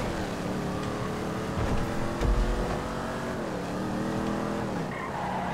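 A race car's engine roars and shifts pitch in a GTA Online land race, the vehicle already banged up, with a steady loud drone, tire noise and a heavy thump midway, no voices.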